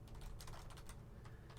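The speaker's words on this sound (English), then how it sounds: "I really suck at typing" Keys clatter on a computer keyboard in quick, uneven bursts of clicks, quiet and close, with no talking over them.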